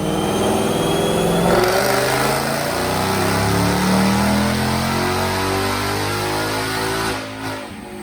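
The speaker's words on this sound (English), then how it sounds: "Let's make a dyno pull." A black 2020 Ford Mustang with a Roush Phase 2 supercharger and 10-speed automatic roars at steady high revs on a dyno, the engine tone climbing loudly and continuously before easing off near the end.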